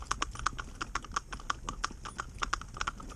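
Two Shetland pony mares walking in harness without bits or blinkers, their hooves clip-clopping in a brisk, uneven rhythm on a hard surface, fairly faint and with no talking.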